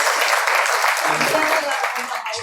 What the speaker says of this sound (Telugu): వాళ్ళకి క్లాప్స్ కొడదామండి.